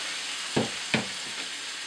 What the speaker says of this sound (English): And then I throw in about 3 whisked eggs